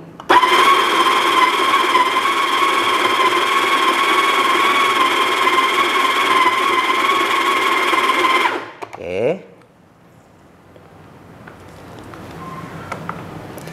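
Built-in grinder of an Almaz ACM6851 home espresso machine grinding coffee beans, a loud, steady whirring hum for about eight seconds that stops abruptly, then quiet handling sounds.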